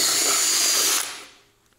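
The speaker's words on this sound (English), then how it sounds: "the instructions say to drill a 52 to 53 millimeter hole. But let's see if a 2 1/8 inch will work" A power drill fitted with a 2 1/8 inch hole saw cuts through a 3/4 inch thick board for a battery monitor mount, a loud whirring grind for about a second that then winds down and stops.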